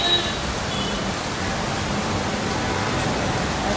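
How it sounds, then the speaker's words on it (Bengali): Heavy morning rain pours down outside a veranda as a dense, even hiss that stays loud and unbroken throughout. "জোরে এত বৃষ্টি পড়ছে"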